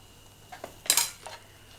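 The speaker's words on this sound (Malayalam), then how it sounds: "നന്നായി വഴറ്റി കൊടുക്കുക." Sambar ingredients with chili powder sautéing in a pan, heard as a few scattered spoon-on-pan scrapes and clinks, one louder burst in the middle, over a quiet background with no talk.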